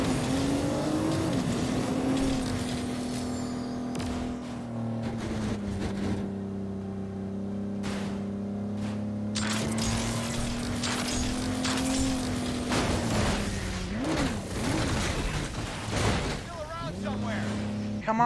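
A video-game car engine in Agents of Mayhem drones and revs continuously while racing, pitch sliding up and down with gear changes, under intermittent talk from a player.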